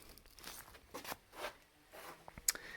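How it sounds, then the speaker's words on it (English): The zipper on the side of a fabric water tank cover at a cabin shed is pulled, giving faint, short rasping strokes with a few light clicks, close but quiet. "it has a zipper up the side here so I can see how much water's in the tank."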